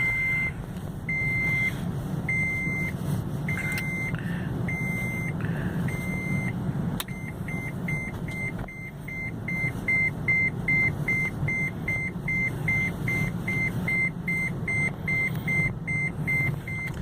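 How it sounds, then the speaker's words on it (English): Repeated high-pitched electronic beeps from a taxi reversing, steady and evenly spaced, sounding over a low rumbling engine hum. "Now we're going to have the beeping because I used the reverse gear"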